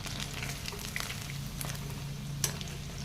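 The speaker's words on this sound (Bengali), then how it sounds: "আমি সুন্দর করে লাল লাল করে মুচমুচে করে ভেজে নেব এগুলো।" Fish manchurian pieces deep-fry in hot oil with a steady, dense bubbling sizzle, close and even, with a couple of brief crackles.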